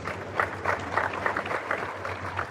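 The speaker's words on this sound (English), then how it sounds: "Please, a round of applause." A room full of people at a conference in Accra applauding, a continuous patter of many hands clapping at moderate loudness, with no talking.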